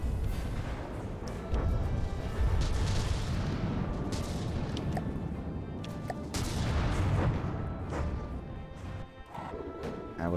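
In From the Depths, naval guns fire and torpedoes strike a flagship in a campaign sea battle, a dense, steady roar of booms, crashes and heavy impacts that barely lets up.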